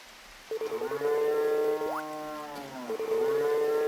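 Cows in a farming game low in long, sustained moos, several overlapping calls with a brief rising glide in the middle, loud and close with no speech.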